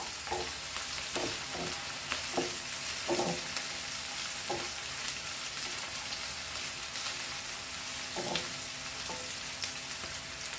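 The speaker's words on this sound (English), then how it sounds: "High flame and fry all this." Vegetables for veg fried rice fry on a high flame, producing a dense, even sizzle that holds throughout. Intermittent clicks and scrapes from stirring sit inside the sizzle, and no one speaks.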